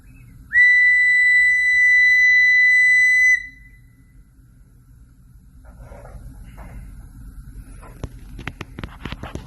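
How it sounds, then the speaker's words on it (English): An open pipe of a pipe organ sounds one steady, pure whistle-like tone for about three seconds, then stops abruptly, leaving quiet room noise with faint shuffling and scattered clicks. "Now let's check out an open pipe."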